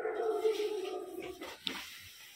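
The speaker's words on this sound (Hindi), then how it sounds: "कुत्ता है ये शाम को" A dog makes a brief sound close by on a cold evening outside a house, a short vocal burst with no talk over it.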